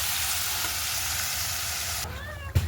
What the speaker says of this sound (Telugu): పచ్చడి అయితే తాలింపు వేసాను చూడండి.